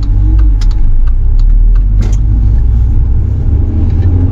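2002 Audi TT 1.8T quattro with a six-speed manual, its engine droning steadily from inside while driving, a loud low rumble with occasional ticks and clicks from the cabin, no talk.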